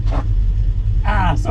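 A 1949 Studebaker Champion's 6-volt starter cranks the engine on 12 volts, a steady low churning rumble throughout with short bursts of a voice over it.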